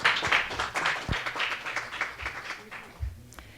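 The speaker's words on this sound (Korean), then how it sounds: "큰 박수로 맞이해 주시기 바랍니다." Scattered clapping from an audience at a Korean policy forum on an online platform user protection law welcomes a presenter, fairly close and tapering off over a few seconds.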